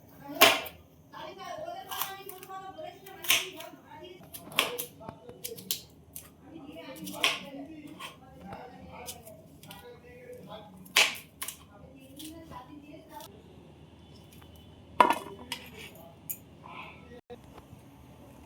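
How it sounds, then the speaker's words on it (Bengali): Knife cutting a capsicum in a home kitchen, sharp, separate chopping clicks at an uneven pace, close and fairly crisp, with someone speaking between cuts. "ক্যাপসিকামটা কেটে নেব।"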